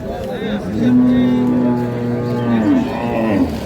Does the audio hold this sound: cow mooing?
yes